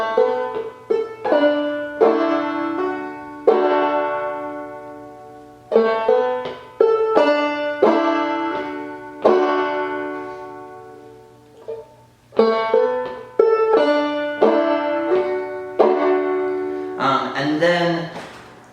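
Banjo lick played up close, a bright run of plucked notes with hammer-ons and brushed strums across the strings, phrased in short bursts with brief pauses between, ending in a quick flurry.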